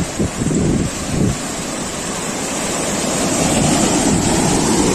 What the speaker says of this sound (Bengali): জোয়ারের সমুদ্রের জলের গর্জনটা একবার দেখো তোমরা